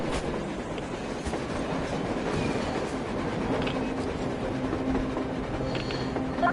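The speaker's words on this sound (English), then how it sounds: "A train! A damn train on the surface!" A train rumbles steadily with rolling rail clatter as it approaches on the surface in Metro Exodus, moderately distant under a continuous noisy outdoor background, with no speech.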